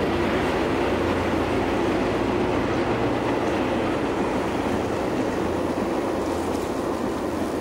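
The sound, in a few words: commuter train passing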